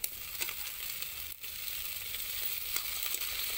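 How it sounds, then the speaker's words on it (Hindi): Eggplant (baingan) sizzles in a hot pan with tomato for baingan ki sabji, a steady bright frying hiss with a few small pops and crackles, close and with no talk. "अब इसमें पहले हम बैंगन डालेंगे।"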